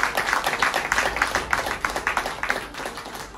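A seminar audience applauding, a fairly faint, steady patter of many hands clapping at once with no break across the few seconds.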